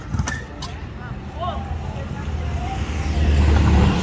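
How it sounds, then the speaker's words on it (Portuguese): A 190 motorcycle running on methanol catches after a push start outdoors. Its engine rumble builds and grows louder toward the end, over background noise, with no clear speech. "Pegou, moleque. Pegou a moto lá."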